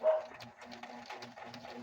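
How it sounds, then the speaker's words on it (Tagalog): Dogs bark repeatedly in quick, uneven bursts, moderately close, with some yipping mixed in and no one talking. "Ngayon, tahol na tahol yung mga aso."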